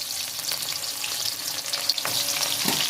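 Onions sizzle steadily in a pan over high gas alongside potatoes, cardamom, cloves and whole cumin, a continuous bright hiss with a few soft stir clatters near the end, no talking.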